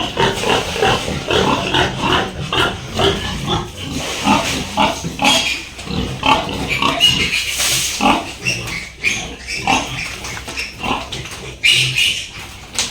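A crowd of native pigs on a backyard farm grunts and squeals steadily at close range, producing dense, overlapping snorts and oinks with no clear pause throughout.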